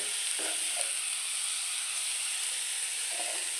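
Broccoli stirred into hot spices in a frying pan, a loud, steady sizzle filling the whole stretch, with a couple of soft scraping stirs near the start and end, no talking.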